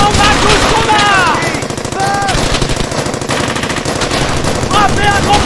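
Sustained machine gun fire from the World War II video game Brothers in Arms: Hell's Highway, rapid bursts running continuously and loud, with game dialogue and radio-style voices cutting in over the shooting.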